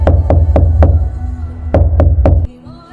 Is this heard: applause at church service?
no